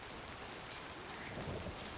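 Steady rain hissing in the video game Death Stranding 2, a dense even wash of downpour with a low thunder rumble swelling faintly near the end, no voices.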